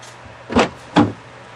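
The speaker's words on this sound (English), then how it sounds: "Unlock the doors." Power door locks unlocking on a 2005 Toyota Highlander with 174K miles, two quick mechanical clunks about half a second apart, close and clear with no talk over them.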